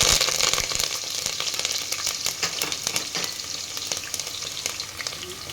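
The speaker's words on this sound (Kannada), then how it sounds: "ಇವಾಗ ಚಟಪಟ ಅಂದೈತೆ ಗೈಸ್ ಇವಾಗ ಈರುಳ್ಳಿ ಹಾಕೋಣ ಅದಕ್ಕೆ ಇದಕ್ಕೆ ಕರ್ಬೇವಿನ ಸೊಪ್ಪು" Onion and curry leaves hit hot oil that already holds popping mustard seeds, giving a dense, loud, crackling sizzle with rapid spitting pops throughout.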